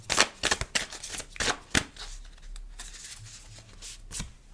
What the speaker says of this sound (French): Il y a beaucoup trop de cartes qui tombent.